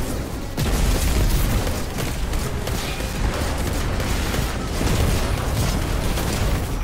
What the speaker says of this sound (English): I'm gonna Nova Bomb.